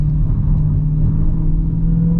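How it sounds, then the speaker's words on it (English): A Dodge Challenger Hellcat Widebody at partial throttle gives a loud, steady, close-up engine drone with its supercharger whine sustained beneath a deep rumble throughout, no voices. "I absolutely love the sound you get from that supercharger"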